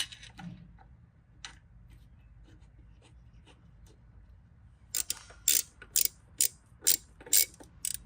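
Ratchet clicking in quick bursts while bolting on a throttle body for a Mazda 3 Skyactiv 2.0L-to-2.5L swap, with sharp close bright clicks coming in a regular series toward the end after quieter scattered handling noises.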